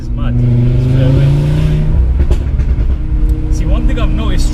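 A 500 bhp Audi RS3 with a tuned engine accelerating hard in dynamic mode, a loud droning exhaust note that climbs in pitch, then shifts and rises again, heard from inside the car with a voice talking over it.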